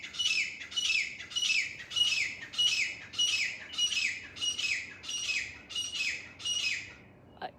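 Bird calling in Al-Ain, about ten sharp squawking calls in a steady, evenly spaced series, fairly close and clear, with no talk over them and a brief click at the end.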